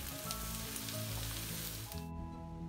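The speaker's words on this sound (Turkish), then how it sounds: "azar azar mantarları ilave ediyoruz ve sürekli karıştırarak kavuruyoruz" Oyster mushrooms sauté over high heat in a hot pan, a dense, continuous sizzle close up that briefly thins near the end.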